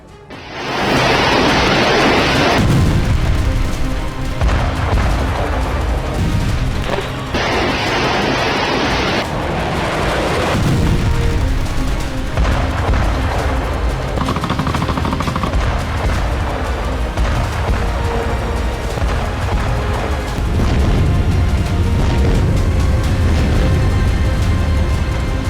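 Explosions from Ukrainian drone attacks on Moscow: loud, heavy booms that burst in repeatedly and roll over a continuous roaring rumble.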